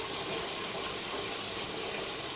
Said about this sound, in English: we're going to turn the cold water on in this sink here